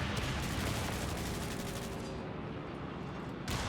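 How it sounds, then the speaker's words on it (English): Airstrike in a Company of Heroes 3 battle, striking enemy riflemen and a bazooka team: a steady, dense roar of explosive fire and gunfire rumbling continuously, with a brief burst of noise at the end. "Airstrike comes on in, suppress the riflemen and the bazooka team."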